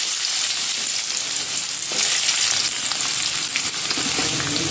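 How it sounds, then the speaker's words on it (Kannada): Onions frying in hot oil for a hotel-style chicken fry, giving a steady, loud sizzle with crackling bursts throughout, close up and without voices. "ಎಣ್ಣೆ ಬಿಸಿ ಆದ ಮೇಲೆ ಇದಕ್ಕೆ ಈಗ ನೀರುಳ್ಳಿ ಹಾಕಿಕೊಳ್ಳಿ."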